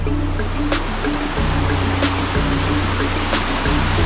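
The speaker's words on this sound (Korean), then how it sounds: "우와 폭포네" Steady, full rush of falling water, close and loud, with a few brief clicks and knocks on top.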